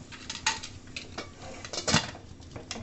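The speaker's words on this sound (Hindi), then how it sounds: "इसमें मैं कुकर का ढक्कन बंद कर दूंगी" Metal clanks and scrapes as a pressure cooker lid is handled and closed, several sharp clinks close by in an uneven rhythm.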